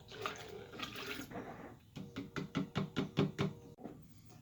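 Blackberry sangria made with Malbec stirred in a pitcher, a watery swish followed by a run of about eight rhythmic clinking knocks of a spoon against the sides, close and fairly quiet.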